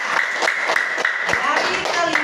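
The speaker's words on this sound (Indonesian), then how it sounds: "Tepuk tangan dulu." A school class claps hands in a classroom, a rhythmic run of sharp, evenly spaced claps carried under a teacher's voice that keeps speaking throughout.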